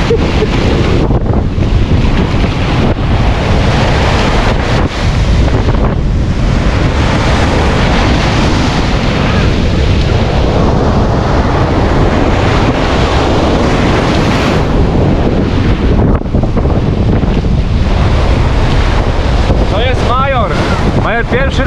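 Sea waves surge and break at a beach where a dog plays in the water, loud and continuous, with heavy wind buffeting the microphone throughout.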